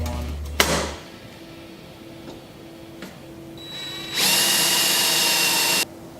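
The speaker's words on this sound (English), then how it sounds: "Should have drilled the hole, which I've already marked." A power drill bores a hole while building a DSLR vlog mount, its steady whine running loud and close for under two seconds after a few quieter handling knocks and clicks.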